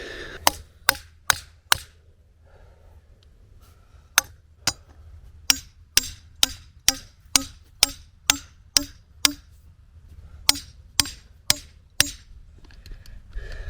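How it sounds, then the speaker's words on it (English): Sharp metallic hammer blows strike a fitting on a 40 ft antenna tower, coming in quick bursts and evenly spaced runs, close and loud against a quiet outdoor background. "Need a hammer."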